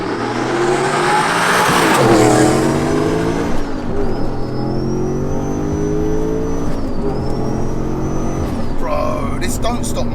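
Rear-mounted turbo 730 bhp V8 Audi RS4 accelerating hard in third gear, a loud rising engine roar with a turbo whistle and a shift, under people talking inside the car.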